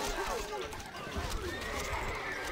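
A horse neighs and whinnies in the medieval strategy game Stronghold: Crusader, with faint clip-clop and game voices speaking around it over a steady background.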